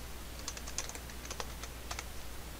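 Keys clack on a computer keyboard as a virtual machine name is typed in, a short quiet burst of about a dozen irregular taps over a faint background hum.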